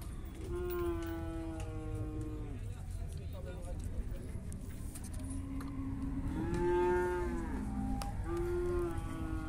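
A cow moos loudly several times nearby at a livestock fair in Cachoeirinha, Pernambuco, long drawn-out lowing calls separated by short pauses, over a faint outdoor background.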